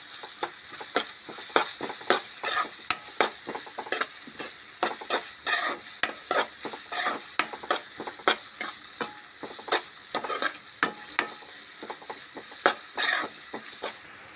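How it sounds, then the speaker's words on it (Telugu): Tomato fries with ginger-garlic paste in a pan while a spoon stirs and scrapes repeatedly, giving quick irregular scratchy strokes over a steady soft sizzle, close and moderately loud. "దీనిలో ఫ్రెష్గా చేసి పెట్టుకున్న అల్లం వెల్లుల్లి పేస్ట్ వేయండి. ఇది పచ్చి వాసన పోయే వరకు వేయించండి."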